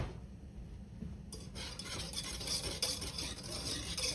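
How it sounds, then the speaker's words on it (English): Sugar, cocoa powder and flour stirred together in a bowl for chocolate gravy: a soft, steady scraping and rustling that starts after a quiet moment and carries on continuously at close range. "let me mix in our sugar and our cocoa and our flour"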